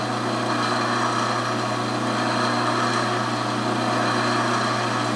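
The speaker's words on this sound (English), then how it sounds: "It's like drilling through a big piece of plastic here" A lathe drills into a plastic pen blank at its lowest speed, the tailstock locked down, giving a steady, continuous motor whine and grinding hum that stays loud and even throughout.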